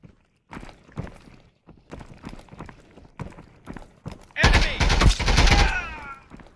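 Gunfire in the VR shooter ExfilZone: scattered single shots crack at intervals, then a loud, dense rapid burst of automatic fire rattles for about two seconds.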